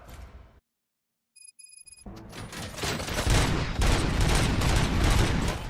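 Rapid bursts of gunfire crack through a RoboCop video game scene, starting after a short silence and a few electronic beeps, then building into a loud, dense, sustained fusillade.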